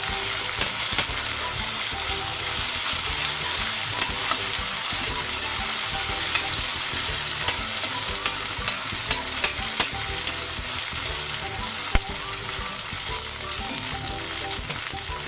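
Ginger-garlic-chilli paste fries in hot tempering oil for veg Kolhapuri, a dense, steady sizzle up close with intermittent stirring clicks and scrapes, continuous throughout with no talking.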